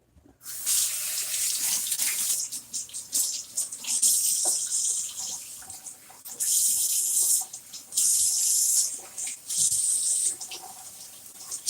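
Tap water pouring into a bucket while homemade wine is being mixed, running in several separate gushing bursts with short pauses between, close and splashy.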